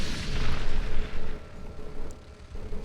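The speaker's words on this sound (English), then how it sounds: "throw this flash grenade" A flash grenade detonating in the video game Resident Evil 4, a loud, deep boom followed by a rumbling decay that lingers for a couple of seconds, with no talk.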